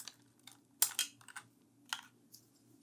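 Keys clack on a mechanical computer keyboard with slightly crunchy switches after a beer spill, a handful of close, irregular taps with a louder cluster near the middle.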